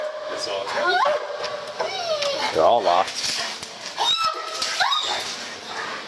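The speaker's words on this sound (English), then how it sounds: "Just Listen to the dog! Listen to the dog!" A police dog barks, howls and whimpers in several bursts, with yips and whines rising over urgent talk from officers nearby during a search near locked tanning room doors.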